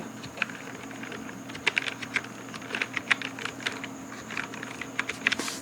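Someone types the website name remove.pg on a computer keyboard, producing a run of quick, light key clicks in an irregular rhythm, close and fairly soft over a steady background hum.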